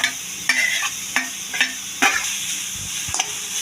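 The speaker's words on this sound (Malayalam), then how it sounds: "നെയ്യ് ചൂടായിട്ട് നമ്മൾ കപ്പക്കായ ഇട്ടിട്ട് നന്നായി ഒന്ന് വഴറ്റിയിടുക." Grated papaya sautéing in hot ghee for papaya payasam, an even sizzle punctuated by a run of regular spoon scrapes and taps against the pan roughly every half second, near and fairly loud, with no talking.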